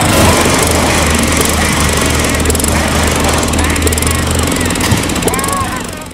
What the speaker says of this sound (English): Look, here comes that 22-inch Craftsman mower.